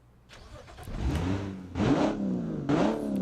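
A Baja competition car engine cranks and catches, then revs in three rising bursts, each climbing in pitch before falling back, loud and near with no talking.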